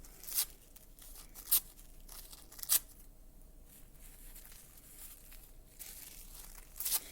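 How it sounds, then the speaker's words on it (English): Tissue paper torn by hand for a polar bear craft, several quick sharp rips at irregular intervals with soft crinkling between, close and fairly quiet. "So we're going to stop and just go rip and set them down"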